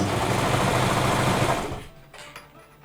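A Brother 1034D serger runs at speed for about two seconds with a dense, fast mechanical whir, then stops abruptly, leaving faint clicks and handling noise close by.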